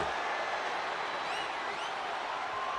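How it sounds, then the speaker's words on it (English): A capacity arena crowd in the video game WWE 2K25 roars continuously during a no-holds-barred match between Stone Cold Steve Austin and Rikishi, a steady wash of cheering with faint whistles rising above it. "do you hear this capacity crowd? They want more from Stone Cold."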